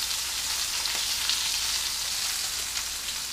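Pufferfish fillets fry in hot oil in a pan, a steady close crackling sizzle with dense spitting pops running throughout, no voices.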